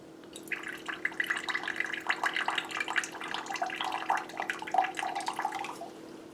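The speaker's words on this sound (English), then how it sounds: "I just poured a little bit of that into here through the filter" A thin stream of water trickles and patters steadily through a homemade filter into a container, with small drips and splashes, heard up close over a faint background hum.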